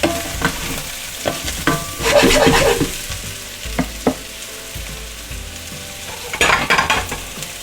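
Leftover Christmas sausage and meatballs fry in a pan with a loud, busy sizzle and crackle, punctuated by scraping stirs and bursts of spattering, with no talking.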